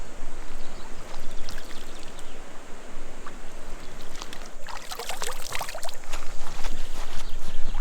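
The cold mountain Voidomatis river rushes through the Vikos gorge in Greece, a steady, close, full wash of flowing water with brighter splashy trickles rising toward the end.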